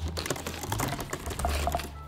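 Steady, rapid typing on a new laptop keyboard, with light close key clicks in a quick, uneven patter over a low background hum.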